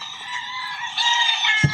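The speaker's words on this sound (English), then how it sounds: "I'd like you to listen to these roosters." Recorded roosters crow, played back at a Fresno County Board of Supervisors meeting: loud, continuous crowing fills the whole stretch and ends in a brief louder burst, with no talking.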